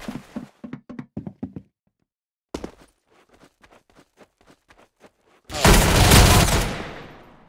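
Gunfire in a shooter video game comes as a series of sharp separate shots, then ends in a loud, dense burst that fades away.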